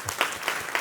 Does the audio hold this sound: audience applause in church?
yes